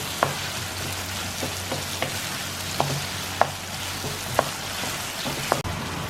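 Crushed green chillies sautéing in oil in a pan for pork vindaloo, a continuous bright sizzle broken by sharp ticks and spatters, close and steady with no voices.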